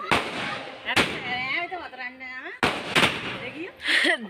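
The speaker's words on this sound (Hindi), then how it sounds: "तो फ्रेंड्स हमने पटाखे जला दिए हैं" Firecrackers set off during an anniversary celebration: several sharp, loud bangs, including one at the start and a pair in quick succession partway through, with whistling and crackling in between, all under someone speaking.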